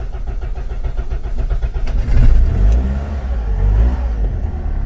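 A repaired car engine that had refused to start runs loud and close, a steady rumbling drone that swells into a revving surge midway, then settles into a strong idle with no talk.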